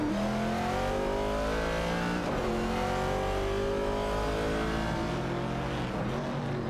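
Ford Falcon and Ford Mustang Boss race car engines in a racing video game, loud layered revving with rising and falling pitch as gears shift, continuous and close, no talk.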